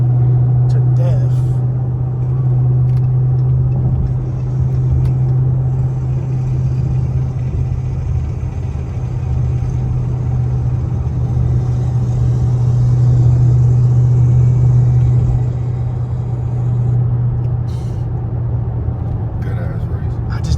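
A Dodge Hellcat races a fully built Camaro 2SS with headers, cam and a different transmission, heard from inside as a loud, steady engine drone that holds nearly unchanged throughout.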